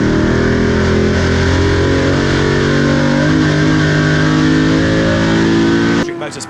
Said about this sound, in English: Then the two Ford Capris go past.